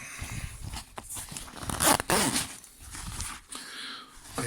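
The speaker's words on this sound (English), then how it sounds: "So I'm just opening up the zipper and folding the flap, the top, inside out." Zipper being opened on a Molle II ACU 3-day assault pack, heard up close as several short rasping pulls in quick succession with fabric handling between them, quiet and with no speech.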